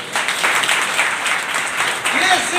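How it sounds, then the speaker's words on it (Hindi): Loud applause from a church congregation during a Sunday service lasts a couple of seconds, with voices mixed in over the clapping. "जोरदार ताली।"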